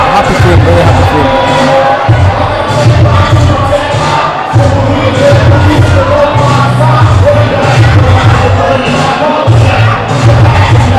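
A boxing arena crowd roars and cheers loudly after a super flyweight title fight, with dense yelling and whooping filling the space while a commentator talks over the din.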